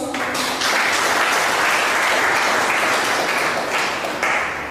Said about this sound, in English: The Secretary General of the United African Communities, a round of applause.